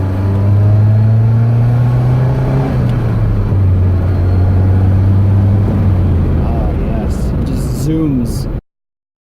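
A Saab 99 comes out of a turn and drives past, its engine a loud, steady droning rumble that shifts pitch as it goes by, ending abruptly, with a voice briefly heard near the end.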